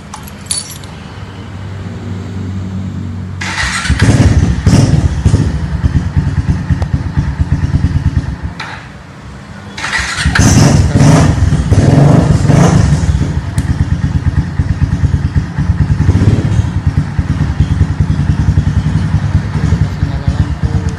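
A Kawasaki W175 motorcycle, a classic-styled bike, fires up after a key clatter and settles into a steady idle, its engine rumble loud and close with a brief dip before revving back.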